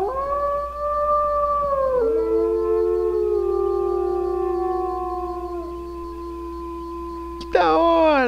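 A wolf in the video game WolfQuest lets out a loud, close howl, long sustained tones that drop partway through, then a sharp click and a brief new howl burst at the end.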